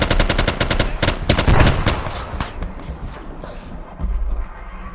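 Loud automatic gunfire in S.T.A.L.K.E.R., a rapid rattling burst of close shots that slows into scattered single reports and fades out.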